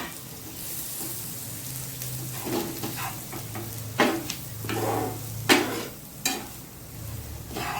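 Flour is stirred into lightly fried capsicum and onion in a pan for milk pasta, a soft frying sizzle running throughout while a spoon scrapes and knocks against the pan in a few louder strokes, close by.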